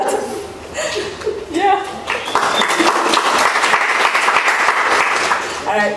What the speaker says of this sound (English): Let's give him applause for that.